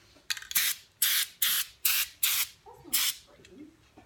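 Spray nozzle, an old one, misting paint onto a chair in a makeshift space outside a spray booth: six short sharp hissing bursts in a steady rhythm, close and loud, with a faint voice murmuring after the last burst.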